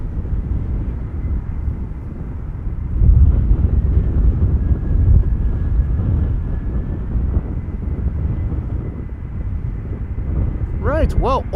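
A DHL Airbus A300 cargo jet approaching the Polderbaan runway at Amsterdam Schiphol gives a steady low engine rumble, heard from a distance under gusty wind buffeting the microphone.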